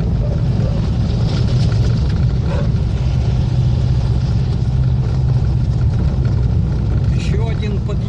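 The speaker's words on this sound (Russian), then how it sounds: "Вот запорожцы едут, все нормально." A ZAZ-965 Zaporozhets car engine running while driving, a loud steady low rumble filling the whole stretch, with voices talking over it.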